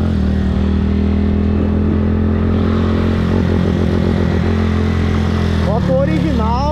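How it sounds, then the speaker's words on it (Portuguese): A stock Honda Titan 160 and a tuned Start 160 with a performance camshaft race side by side, engines droning loudly and steadily, with a rev surge near the end and a voice over them. "Moto original versus a moto de comando e os acessórios ali."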